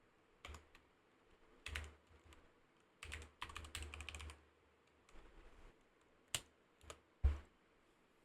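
Quiet, close typing on a computer keyboard while a registration form is filled in, in short irregular bursts of key clicks with pauses and a few sharper single taps, no speech.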